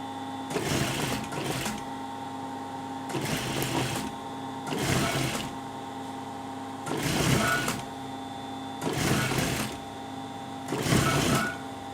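A sewing machine stitches a round neck collar in five short, even bursts of rapid mechanical whirring, with quiet pauses between runs.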